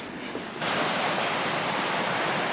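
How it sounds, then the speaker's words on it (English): Small river in the Faroe Islands tumbling down a little cascade, a close, steady rushing hiss that grows louder after the first half-second and stays even. "There's a nice little river with a little cascade going down as well."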